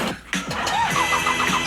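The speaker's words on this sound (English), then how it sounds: "Fires right up." A Toyota engine cranks briefly and then catches, settling into a steady running rumble with a few rising revs.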